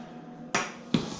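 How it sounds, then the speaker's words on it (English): Two sharp metallic strikes of a sheet metal hammer on a sheet metal seam, about half a second apart, close and fairly quiet, over a faint background hum. "if you got the sheet metal hammer, you can hammer in."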